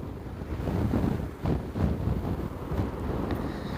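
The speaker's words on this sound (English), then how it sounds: "The volcano became scary, it's frightening now. Formidable size, formidable noise." A volcano erupting at night gives off a continuous, loud, deep roar with a rushing, surf-like texture. Wind buffets the microphone throughout, and no one speaks.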